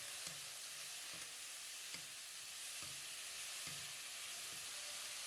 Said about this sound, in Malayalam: വാടിക്കഴിയുമ്പം നമ്മൾ കട്ട് ചെയ്ത് വെച്ചിരിക്കുന്ന കോവയ്ക്ക ചേർത്ത് നല്ലപോലെ ഒന്ന് ഇളക്കണം.